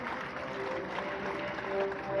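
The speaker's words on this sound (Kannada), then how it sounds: "ಜೋರಾದ ಚಪ್ಪಾಳೆ ಮೂಲಕ ಸ್ವಾಗತಿಸಬೇಕು." An audience applauds to welcome a guest at an inauguration ceremony, the clapping dense and steady throughout at a moderate distance.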